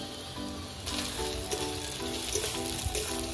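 Chopped onion and tomato frying in hot oil with bay leaf, dried red chilli, whole garam masala and cumin for Kolkata-style mutton curry, a steady close crackling sizzle with small pops throughout.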